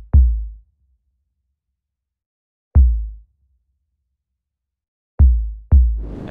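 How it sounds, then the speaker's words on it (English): Deep tom drum sample in an FL Studio trap beat: booming low hits with a quick pitch drop and half-second decay, three spaced strikes and then a fourth close behind, played alone. "And then I went into a tom, that sounds like this."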